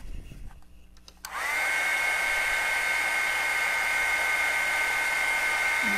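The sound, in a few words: dryer blowing to dry a craft piece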